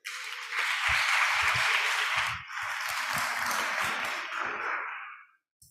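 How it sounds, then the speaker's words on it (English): Audience applause at a talk on quantum supercomputers, a dense burst of many hands clapping that swells, briefly dips, then carries on before tapering off into silence at the end. "and please give a round of applause."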